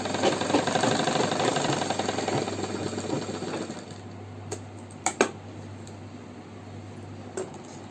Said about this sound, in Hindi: इसके दोनों पल्लों को सिलाई लगा लेंगे पहले नेफे के लिए।